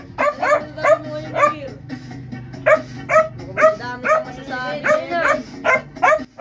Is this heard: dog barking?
yes